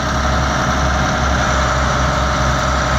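Case 2290 tractor engine idling steadily while unloading hay, a loud close diesel drone with constant low vibration and no talk.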